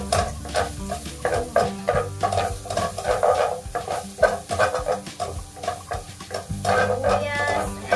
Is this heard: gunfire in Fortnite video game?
no